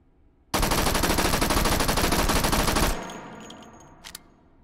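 An M1A1 submachine gun in the VR shooter Hot Dogs, Horseshoes & Hand Grenades rattles off one loud, continuous burst lasting over two seconds, then stops abruptly, followed by faint mechanical clicks and a short metallic clack.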